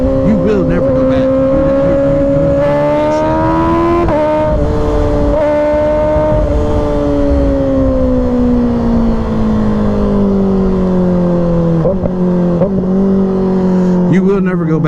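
Riding a 2024 Kawasaki Ninja ZX-6R 636 with stock quick shifter, the engine drones loudly with rider speech over it, then revs blip and drop in several downshifts, pitch stepping and sliding lower near the end.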